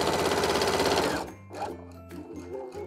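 A sewing machine stitches the lace-up back of a dress with ribbon turned under, running steadily and loudly for about a second before stopping, followed by quieter handling sounds.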